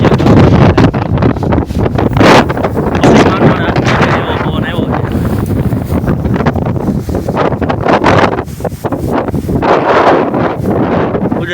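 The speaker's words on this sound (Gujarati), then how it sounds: "પવન આવે છે ફૂલ." Strong wind buffets the microphone in a loud, continuous roar outdoors under dark pre-monsoon storm clouds, with gusts swelling throughout and little letting up.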